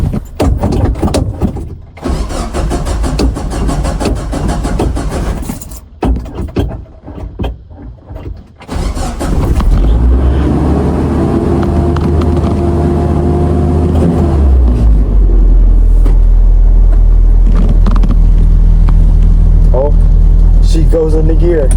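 A mini truck engine cranks and catches after clutch repair, then settles into a loud, steady low idle rumble, with clattering and handling noises beforehand.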